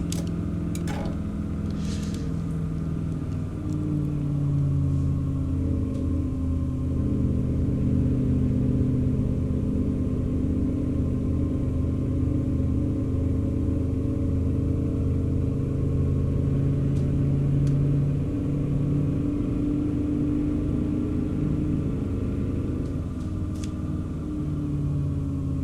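A Rolls Royce engine in a T248 truck from American Truck Simulator holds full throttle, a loud, steady, low droning rumble with slight rises and a few faint clicks, continuous and close with no talking.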